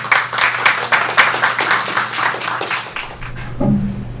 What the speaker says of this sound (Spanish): Por favor, les pido un fuerte aplauso para él.